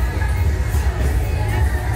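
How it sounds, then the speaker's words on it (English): Crowd noise on a busy Pattaya nightlife street: a dense, continuous murmur of many voices with low rumbling music, loud and close. "there's definitely a crowd down here"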